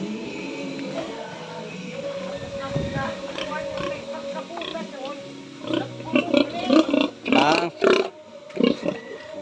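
A young pig grunts and snorts repeatedly close by, the grunts growing louder and more frequent toward the end, with people talking throughout.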